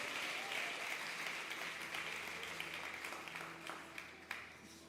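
A church congregation applauds during an evening communion service, a dense, sustained wash of clapping from many hands that holds steady across the whole stretch, with faint voices underneath.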